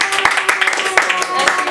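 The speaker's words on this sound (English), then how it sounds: "we can clap for yourselves" Students clap after a classroom debate, a fairly small, uneven patter of hand claps with a few sharper single claps, close by and moderately loud, with murmuring voices mixed in.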